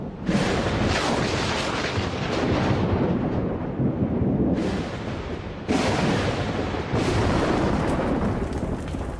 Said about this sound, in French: Un orage y suffira.